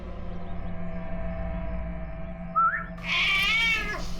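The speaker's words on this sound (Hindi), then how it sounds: "ये है वो बिल्ली" A cat gives two meows against a low steady hum. The first is short and faint; the second is a louder, drawn-out wailing meow near the end.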